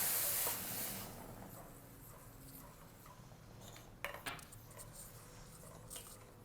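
A steady hiss and bubbling seethe of milk boiling in a pot, with a couple of clinks of metal utensils partway through.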